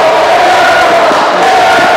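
Basketball crowd in a high school boys' game gymnasium, Williamsport versus Crestwood, jeering a player with a loud, sustained roar and raspberry-like booing, dense and continuous throughout.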